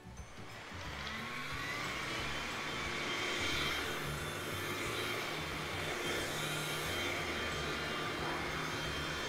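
A Philips FC6729 cordless vacuum mop runs with a steady, even whirring hiss throughout, fairly quiet and alone with no voices.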